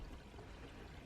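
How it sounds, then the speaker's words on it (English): Water poured on the ground outdoors to check the incline of a freshly graded surface, flowing as a steady, faint, continuous wash with no voices. "So we're checking the incline with some water."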